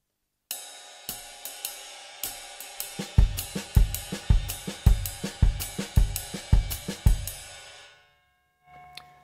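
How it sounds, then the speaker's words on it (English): A swinging jazz drum pattern: light cymbal taps, then snare on the middle of each triplet and deep bass drum thumps on the last, played alone. "put the snare drum on the middle of the triplet and the bass drum on the end of the triplet"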